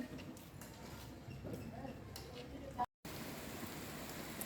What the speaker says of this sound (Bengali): হঠাৎ করে অনেক জোরে বৃষ্টি নামছে